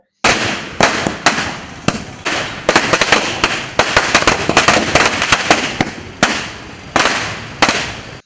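Firecrackers at a fan association victory celebration in Kodungallur, bursting in rapid loud crackling volleys, close by and intense, with short gaps between strings of bangs.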